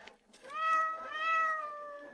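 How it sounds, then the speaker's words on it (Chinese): A single drawn-out kitten meow on a cold day, clear and fairly close, rising then slowly falling in pitch over about two seconds. "是不是有小猫在叫？"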